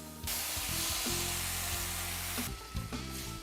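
Chopped canned tomatoes hit a hot pan and sizzle loudly and steadily, a bright broadband frying hiss with a few clatters of stirring, easing slightly near the end.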